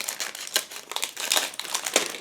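A sealed plastic bag holding sprues from an IBG Models 1/35 Chevrolet C30A General Service kit crinkles close up in quick, irregular rustles and crackles, with no talking.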